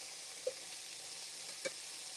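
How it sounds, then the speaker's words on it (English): Food sizzles in a frying pan while chicken piccata is cooked, a steady close hiss broken by two small pops. "Okay, so you can see I'm sizzling up here."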